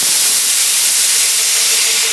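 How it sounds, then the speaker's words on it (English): Steam blasting out of a boiler's blow-off valve during a test burn as the water runs low, a loud continuous hiss held steady for the whole stretch. "There goes all my steam."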